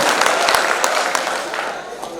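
Audience at a Qaumi Ekta poetry mushaira in Nandurbar, Maharashtra, claps in a dense, steady burst of applause that fades slightly toward the end.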